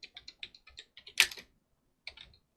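Typing on a computer keyboard during an evening livestream: a quick run of light, close key clicks, then a louder clatter and a brief final flurry of taps in an otherwise quiet room.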